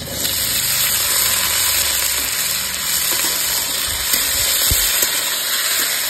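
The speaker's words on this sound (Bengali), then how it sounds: "আলু ভালো করে কষে নেবো।" Potatoes and tomatoes sizzle loudly and steadily in a pan, with occasional soft scrapes and knocks as they are stirred.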